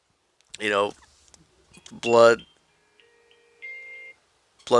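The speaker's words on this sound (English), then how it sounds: "my alarm just went off" A faint electronic alarm tone beeps in short bursts between bits of a man's speech, quiet and thin under the voice.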